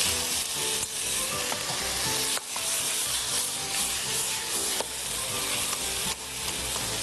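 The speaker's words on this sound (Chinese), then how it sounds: "倒入青蒜， 爆炒一下" Pork liver and green garlic stir-fried in a wok crackle with a steady loud sizzle, broken by a few sharp clanks and scrapes of the spatula against the metal, with no voices.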